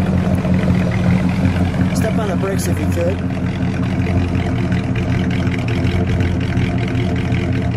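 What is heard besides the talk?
1970 Oldsmobile Cutlass S Rallye 350 engine idling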